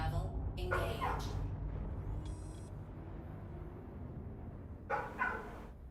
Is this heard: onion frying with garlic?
no